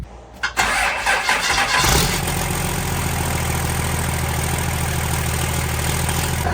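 A race truck's engine cranks briefly on a cold day, catches with a loud burst around two seconds in, then settles into a steady, rumbling idle close by.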